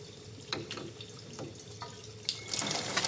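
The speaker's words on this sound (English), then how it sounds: "So I'm going to purge my test cocks, or flush my test cocks. So flush test cock number 1" Water flushes from the test cock of a backflow preventer valve assembly, a close, steady splashing rush with a few short gurgling bursts that grows louder toward the end, with no voices.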